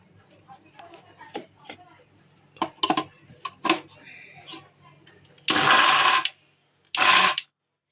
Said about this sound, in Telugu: ఇప్పుడు ఇది మిక్సీ పట్టుకుందామండి.